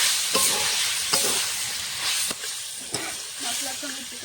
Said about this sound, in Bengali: মশলাটা কষানো হয়ে গেছে, দেখো তেল ছেড়ে দিয়েছে। ভেজে রাখা চিকেনটা দিয়ে দেবো।